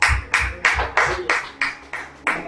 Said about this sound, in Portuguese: vamos dar salva de palmas para o Senhor.